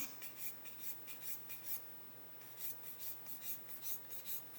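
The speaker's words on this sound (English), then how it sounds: "what I'm going to do is just sand away that sprue gate" Quiet, rhythmic rasping of a sanding stick on a plastic 1/8-scale Porsche 917 model part, sanding away a sprue gate, quick back-and-forth strokes in two runs with a short pause between, close up.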